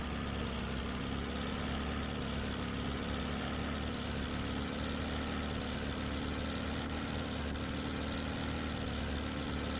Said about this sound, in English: That, or we may just be hitting the rev limiter a little hard